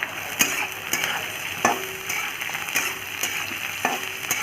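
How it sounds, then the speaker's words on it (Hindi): Chopped onions, green chilies and curry leaves fry in a pan with a steady soft sizzle, punctuated by several sharp scrapes and taps of a spoon stirring. "इसको 2 से 3 मिनट तक इसको फ्राई करेंगे।"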